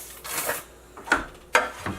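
A sausage stuffer's plunger catches on a vacuum, giving a few short, close mechanical squeaks and sucking pops in an otherwise quiet kitchen.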